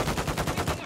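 Rapid automatic gunfire from Call of Duty: Modern Warfare II, a steady burst of about eight evenly spaced shots over less than a second, loud and close with no talking over it.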